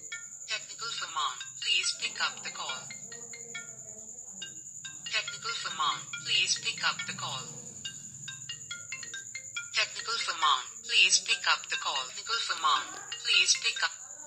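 A custom Jio phone ringtone that speaks a name aloud, a synthetic voice repeating in looped phrases over a high steady tone, with bursts of speech-like chatter filling the whole stretch.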